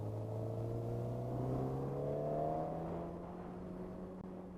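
A Suzuki GSX-R 1000 sport motorcycle is ridden at a demo event, its engine whine climbing smoothly as the revs build and then easing off, faint and steady with no talking over it.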